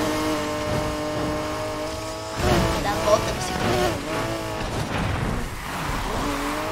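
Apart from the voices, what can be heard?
Ford GT engine at top speed in Need for Speed Heat video game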